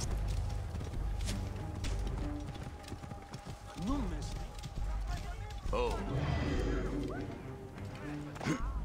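Hooves pound steadily at a gallop in Assassin's Creed Origins beneath game music and effects, while voices speak over the top.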